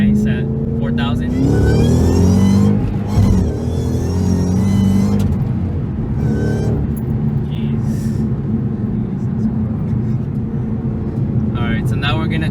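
A Shelby GT500 on Weld S-71 wheels and drag radials accelerates from a roll in first gear, its engine note climbing loud and close in a sustained pull before easing into a steadier rumble.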